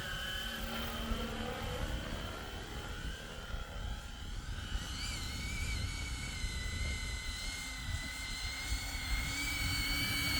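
A Hill HX50 radio-controlled model helicopter flies over an RC field, its steady whining rotor and motor drone continuous and fairly close, with the pitch rising and shifting as it maneuvers.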